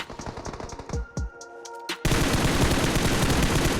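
Gunfire in the BGMI mobile battle royale game: loud, rapid bursts of automatic fire with short gaps, then a dense, sustained barrage of shooting, with no voices.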